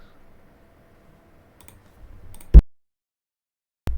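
Computer keyboard used while changing settings for an esports match stream gives two sharp, loud clicks, one after the other with a pause between, over a quiet, low background rumble.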